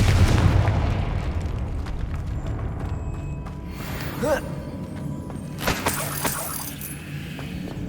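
Confringo fire spell explosion in the Hogwarts Legacy video game, a heavy booming blast with rumbling thuds and crackling debris over several seconds amid game ambience, fairly close and loud.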